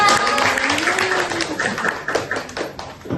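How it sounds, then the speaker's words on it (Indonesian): Audience applause at a youth talk show on gender, busy clapping from a group heard under a host's voice and other chatter throughout. "Boleh kasih tepuk tangannya semuanya."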